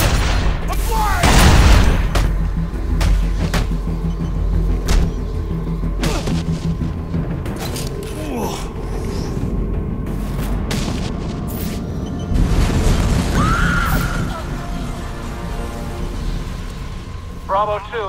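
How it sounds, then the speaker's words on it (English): Oil truck blowing up on a bridge in the video game Batman: Arkham Origins, a deep booming blast near the start followed by rumbling, crackling debris and further thuds, with game voices talking over the sustained roar. "Source of explosion was an oil truck on the bridge surface."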